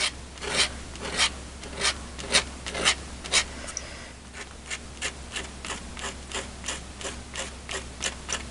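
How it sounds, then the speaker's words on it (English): Rhythmic scraping of a scraper drawn over a card, a steady series of short rasping strokes repeating about every half second, close up over a faint background hum. "Let's grab my scraper."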